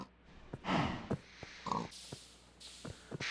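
Pigs in the Minecraft video game give a series of short, close grunts and snorts in quick bursts, separated by brief pauses.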